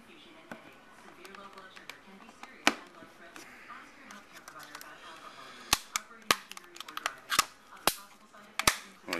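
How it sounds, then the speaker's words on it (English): A chisel pries apart the casing of an XM satellite radio being scrapped, giving sharp cracking snaps and clicks, scattered early and then coming in quicker bursts near the end, over a low murmur of voices in the background. "chisels are your friends because they get in them hard to reach places"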